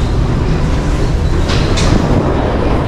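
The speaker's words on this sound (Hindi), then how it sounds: "अभी ये वाला ट्रेन से हम लोग 2 मिनट में पहुंच जाएंगे" A Paris metro train running between stops makes a loud, steady rumble with a constant roar and faint hissing scrapes, heard from on board.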